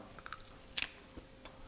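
Someone chews grass-fed beef jerky close to the ear, with soft irregular crunches and one sharper bite in a quiet room.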